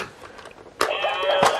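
An electronic toy plays a loud sheep bleat suddenly after a brief quiet, tinny and buzzing, lasting nearly a second with a second burst at the end.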